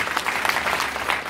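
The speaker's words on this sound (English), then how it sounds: "Can we give them a clap?" Steady applause from an audience at a chairlady's speech, a dense wash of many hands clapping evenly throughout, close and fairly loud with no speech over it.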